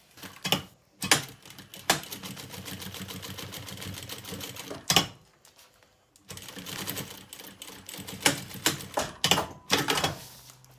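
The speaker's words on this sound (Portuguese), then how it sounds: "Vamos então fazer agora uma costura à beirinha" A sewing machine runs a seam along the edge of a kids' lunch bag, giving a close, steady mechanical whir in long runs with a few brief pauses and sharper clunks between them. Nobody speaks.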